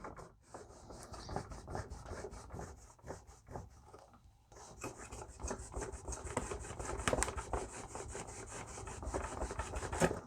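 A cloth soaked in rubbing alcohol rubs tape residue off a Black Foot Xtreme body being restored, making close, steady scrubbing and scraping strokes that pause briefly and then resume harder.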